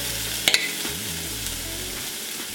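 Garlic and onions frying in a hot pan, a constant sizzle broken by a few sharp scrapes of stirring, close up with a low hum beneath.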